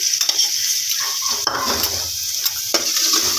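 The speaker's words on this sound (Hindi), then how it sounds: "अब इसमें लहसुन का पेस्ट ऐड कर रही हूँ।" Garlic paste sizzles and fries in a pan while a utensil stirs and scrapes, close and continuous with clinks against the metal, no voices.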